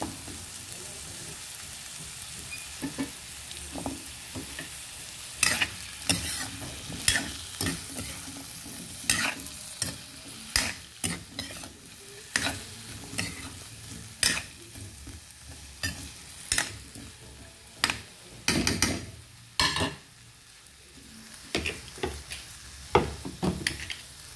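Carrots and potatoes sautéing in a pan for afritada, a soft continuous sizzle broken by repeated sharp scraping and clattering strokes of a utensil stirring them, close and fairly loud.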